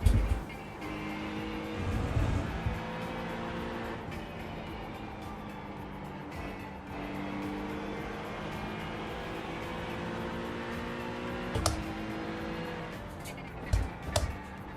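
Sim-racing engines at Watkins Glen, including a cold-tyred LMP2 and a GTP, drone and shift continuously, with cars passing close by and brief sharp peaks near the end; little speech is heard.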